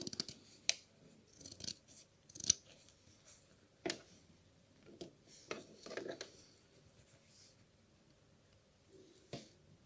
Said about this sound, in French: Dans le creux du cœur, on va faire une petite entaille, si mon ciseau veut bien